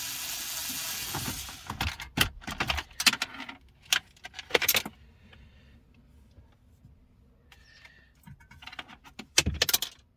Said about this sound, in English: Oh, I just dropped screws everywhere.